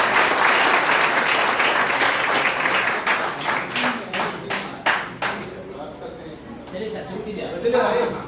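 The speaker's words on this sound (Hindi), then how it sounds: "जोरदार तालियों के साथ इनका स्वागत है" Applause greets the honourable principal at a B.Ed. department seminar: dense, loud clapping from a crowd for several seconds, thinning into scattered individual claps toward the end, with some talk underneath.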